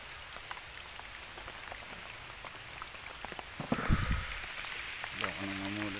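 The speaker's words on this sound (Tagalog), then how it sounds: "Nabasa lang ng ulan." Steady rain falls outdoors during a rainy-day mango gathering near flooded roads and a river, a constant patter of drops with a brief thump and faint voices in the background.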